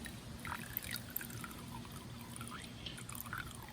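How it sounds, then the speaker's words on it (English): Gasoline poured from a container into two-stroke oil to make a fuel mix, a steady faint trickling pour with a low hiss, no talking. "what I like to do here is maybe pour a little gas into the oil"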